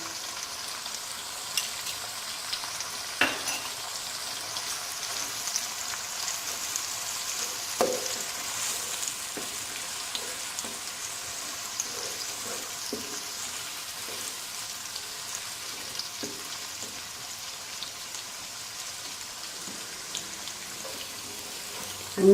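Onions softening in a pan with two spoons of ginger-garlic paste for a vegetable korma, a steady close sizzle and crackle with occasional stirring clicks, no voices.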